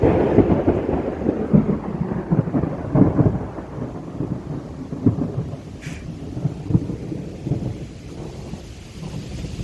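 Thunder rolls and rumbles repeatedly over a backyard garden as rain falls steadily, with low booming swells rising and fading through a continuous wash of rainfall.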